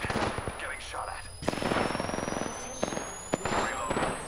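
Apex Legends match with close gunfire: rapid repeated shots and hits over game effects, with players talking briefly.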